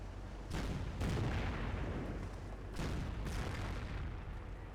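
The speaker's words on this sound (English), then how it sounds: "got the Panthers firing away against that rifleman" Panther tanks firing in Company of Heroes: heavy, booming cannon shots arrive in two pairs, with rumbling decays under a low battlefield drone.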